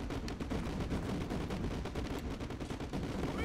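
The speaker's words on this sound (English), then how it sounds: "Fire mission received. Artillery inbound." Artillery strike in the video game Modern Warfare 2, a dense, continuous roar of rapid explosive bursts and gunfire, loud and unbroken throughout.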